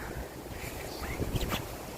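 Steady wind roars across an outdoor microphone in Ireland, a broad rushing noise with a few gusts swelling louder, no one talking.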